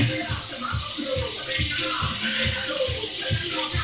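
A cutting board rinsed under a running kitchen tap, with a continuous splashing water stream and rhythmic thuds and sloshes as the board is turned and rubbed, close up and without speech.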